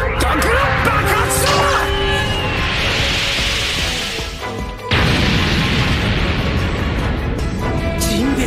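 A loud explosive attack effect from a One Piece anime battle: a dense, roaring blast with crashing debris that fills the whole stretch, briefly dipping before a second heavy burst surges back in.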